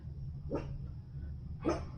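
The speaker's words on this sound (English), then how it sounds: "the little dog, but man, her bark is freaking loud." A small dog gives two sharp barks about a second apart over a steady low background hum.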